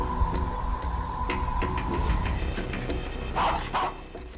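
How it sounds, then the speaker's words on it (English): A dog yelps and cries out in distress while a leopard attacks it at night, sharp whimpering yelps rising over a loud, busy background. "The dog's cry for help woke up the owner to run out."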